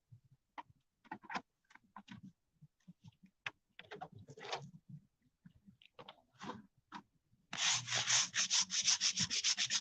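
A dingy marble headstone is scrubbed by hand, first with short, irregular brushy strokes, then with a fast, steady back-and-forth scrubbing rhythm that grows louder and denser near the end.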